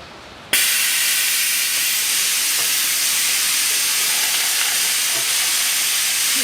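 An express oil change vacuum pump starts up to suck engine oil from a 2007 Ford Ranger 2.5 turbo diesel, a sudden onset followed by a loud, steady, close airy hiss that runs on unbroken.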